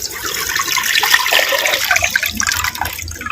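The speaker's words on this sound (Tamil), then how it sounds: "ரெண்டு லிட்டரு பச்சை தண்ணி சேர்த்துக்கிறேன்" Two liters of plain water poured into a clay pot, a loud, close, continuous gushing splash filling the whole stretch with no talk.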